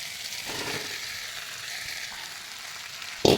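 Cauliflower florets tumble into potatoes frying in spiced oil, raising a steady close sizzle with a soft rustle of pieces settling, then a sharp utensil clank near the end.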